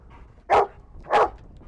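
Search and rescue dog trained to find live buried people gives two sharp barks about half a second apart, close and loud, with no one speaking.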